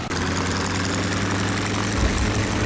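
A light propeller aircraft's engine drones loudly and steadily at full power during takeoff, with the engine note shifting slightly near the end and no voices.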